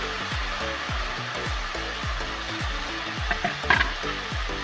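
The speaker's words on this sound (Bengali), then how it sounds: "আমি 2টো আলু সিদ্ধ করে রেখেছিলাম, দিয়ে দিচ্ছি তেলের মধ্যে।" Two boiled potatoes go into hot frying oil in a pan, giving a continuous close, loud hiss and sizzle, with a few small clinks near the end.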